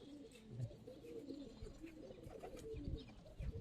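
Giribaz pigeons of an old breed coo softly in a loft, with repeated low, throaty calls overlapping at a faint level.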